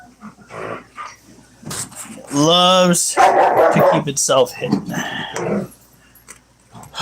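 Dogs barking and yipping loudly in a room, mixed into and partly masked by a person's shouted talking.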